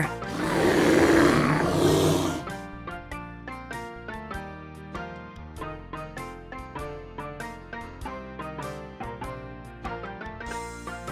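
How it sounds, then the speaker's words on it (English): A bear roars loudly for about two seconds, a broad rough bellow, before music with steady plucked and tonal notes takes over for the rest. "Bear."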